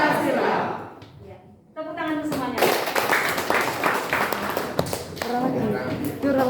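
Applause breaks out in an education gathering in Salatiga, rising after a brief pause into sustained clapping mixed with voices and shouts.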